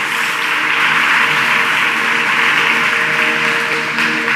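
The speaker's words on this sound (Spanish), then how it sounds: "Denle un aplauso fuerte en esta maravillosa." Church congregation applauding during a sermon, a dense, even roar of clapping held at steady loudness throughout, with a sustained musical tone running underneath.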